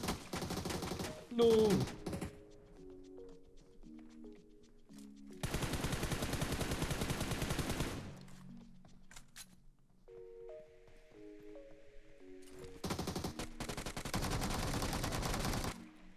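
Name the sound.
gunfire in the video game PUBG Mobile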